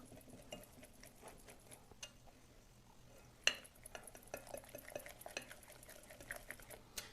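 Flour batter for a Dutch baby being stirred in a bowl, soft faint scraping and light clinks of the whisk against the bowl, irregular and quiet, with one sharper tap midway.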